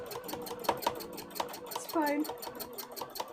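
Sewing machine stitching in rapid, even mechanical pulses, moderately close and faint beneath a woman's speech.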